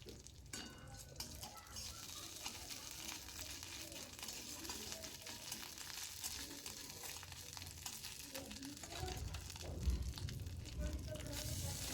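Onions and a half spoon of ginger paste fry in a pan, a soft steady sizzle with scattered stirring clinks and scrapes, fairly quiet and close, with a faint voice briefly in the background.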